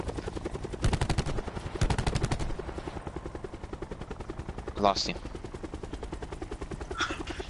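In the Call of Duty Blackout video game, a helicopter's rotor chops steadily throughout, two bursts of rapid gunfire cut in early, and players talk over the action.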